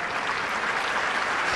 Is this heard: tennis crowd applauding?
yes